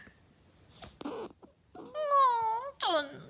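A cat gives two drawn-out, wailing meows after some brief scuffling noises, fairly close and clear, with a faint voice underneath at the start.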